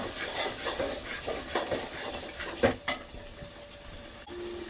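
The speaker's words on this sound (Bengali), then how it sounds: "ভালো করে কষিয়ে নেব" Dried fish stir-fried with radish, eggplant and potato in a hot pan: steady close sizzling and hiss with scraping stirring strokes and a few sharper clatters of a utensil against the pan.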